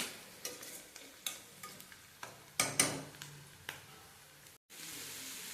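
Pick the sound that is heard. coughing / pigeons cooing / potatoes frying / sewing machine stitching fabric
potatoes frying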